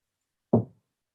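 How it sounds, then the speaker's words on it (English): A single close knock on a solid surface during a nighttime seance, one short sharp thud in otherwise silent air, with nothing before or after. "I'm gonna knock."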